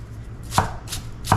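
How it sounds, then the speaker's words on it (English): Knife chopping Pink Lady apples for cookies, three crisp close cuts evenly spaced against a quiet kitchen background with no talk. "Right now I'm just chopping up the apples."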